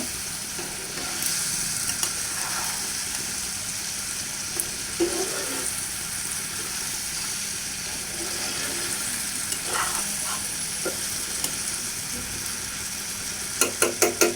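Potatoes and tomatoes sizzle steadily in a pan while being stirred for a chickpea curry, with soft scraping throughout and a quick run of sharp spatula taps against the pan near the end.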